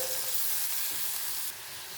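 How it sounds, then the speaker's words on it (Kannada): Onion, green chili and tomato frying in hot oil for egg masala fry, a steady bright sizzle, close and fairly quiet, easing slightly near the end with no talking. "ಇದು ಎಣ್ಣೆ ಬಿಸಿಯಾಗಿದೆ. ಇವಾಗ ಈರುಳ್ಳಿ ಹಾಕ್ಕೊತೀನಿ ಮತ್ತು ಹಸಿಮೆಣಸಿನ್ಕಾಯಿ ಮತ್ತು ಟೊಮೆಟೊ."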